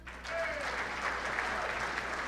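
A sustained wash of audience applause at a sports hall of fame induction banquet, greeting the bartender and holding steady without pause.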